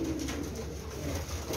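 Hindawi and Wadhn al-Arayis pigeons coo softly and continuously at close range, with a low, rolling murmur over steady background hum.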